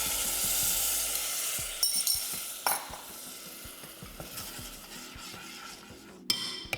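Vegetable stock poured into a hot sizzling pan, a loud hiss that slowly fades, with a few sharp clinks and scrapes of a utensil against the pan near the end.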